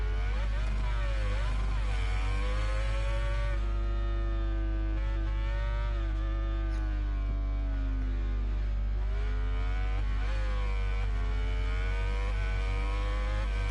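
Motorcycle engine in MotoGP 22 braking hard for a 90-degree right-hander during qualifying at the Japanese round, a steady droning engine tone with pitch sweeping down and rising again, continuous and loud throughout with no talk.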